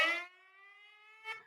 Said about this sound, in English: that's a air raid siren on my phone actually from Ukraine